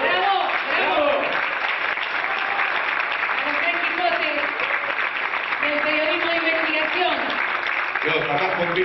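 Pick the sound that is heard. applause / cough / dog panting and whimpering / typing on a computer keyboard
applause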